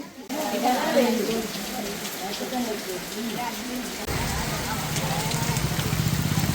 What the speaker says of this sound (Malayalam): അവിടെ നിന്ന് ഇറങ്ങാനാകുമ്പോഴത്തേ നല്ല മഴയാണ്